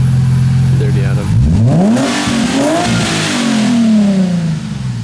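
Nissan 370Z Nismo drift car engine revving up loudly from idle, pitch climbing and falling through a couple of throttle blips, close by, with voices talking over it.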